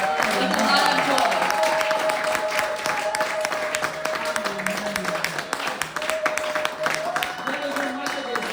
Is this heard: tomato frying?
no